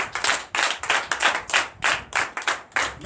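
A Sunday worship congregation in a church in Benin claps in unison, loud rhythmic bursts of hand claps repeating steadily, with no voices audible.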